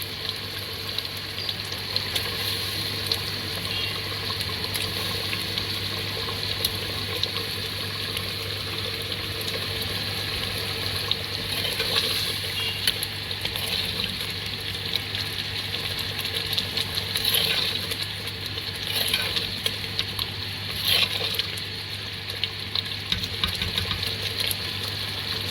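Mutton cooks in a pot, a continuous loud sizzle and crackle of frying meat with a steady hiss, close by and unbroken, with faint clinks now and then.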